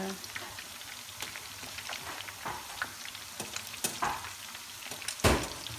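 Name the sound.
frying chicken for chili sauce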